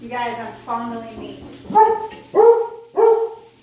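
A dog barks at a knock on the door in a home kitchen, a series of about five sharp barks and yips close by, with a person talking over the first ones.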